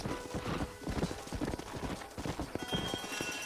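Horses' hooves clip-clop in a rhythmic, fairly close trot in the Western video game Red Dead Redemption, with a brief whinny and faint ambient sounds beneath; no one speaks.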